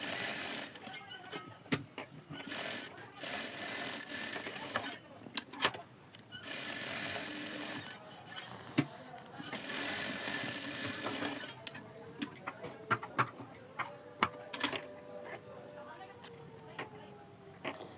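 A sewing machine stitches cloth for a small mobile phone pouch, made as a Sankranti gift, running in a steady whirring rattle with short pauses and restarts. A voice is heard at times over the machine.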